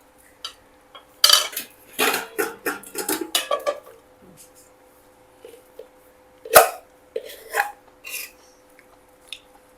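Gravy and rice are served at a lunch in Goa, with clinking dishes, pots and scraping utensils in clustered bursts close by, then pauses and a sharp clank.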